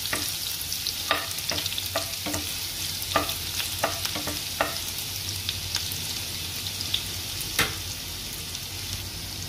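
Garlic frying in oil toward golden brown for a sardine dish, a continuous close sizzle broken by frequent crisp spatula scrapes and taps, with no talking.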